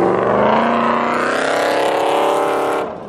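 A car engine running loud and close with a strong steady harmonic drone and a slight rise in pitch, cutting off sharply near the end.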